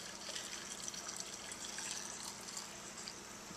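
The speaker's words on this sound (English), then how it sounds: "Now I'm just pouring the brine over everything." Pickle brine pours steadily into a barrel of cucumbers, garlic and dill, a continuous close splashing gush with no pauses.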